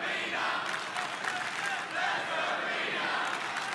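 Wrestling arena crowd cheering, a dense, sustained roar of many voices with chanting swells, loud and continuous throughout.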